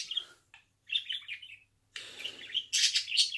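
A small bird chirps and tweets in quick, bright bursts, fairly close, with short pauses between phrases.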